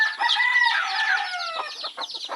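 A native junglefowl (labuyo) rooster set down on the ground crows and clucks nearby, a drawn-out crow running into a string of short rapid clucks, with no talk.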